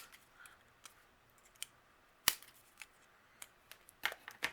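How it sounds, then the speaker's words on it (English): Quiet, close snips of scissors cutting off the overhanging prongs of a brad on a cardmaking project, several sharp irregular clicks spread across a soft background. "use your scissors and cut off the overhanging prongs"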